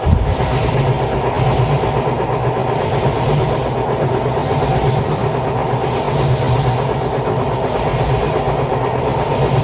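A passenger train on the Dhaka–Mawa line runs along the tracks, a loud continuous close-up rumble with rhythmic clickety-clack of wheels over rail joints throughout.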